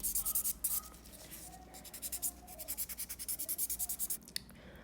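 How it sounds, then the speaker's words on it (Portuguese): A flat nail buffer polishing a gel nail extension, quick rhythmic rubbing strokes close up, coming in short bursts with brief pauses between them. "com uma buffer, eu vou com a lixa deitada. Vou polir essa unha."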